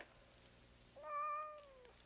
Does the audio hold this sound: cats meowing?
yes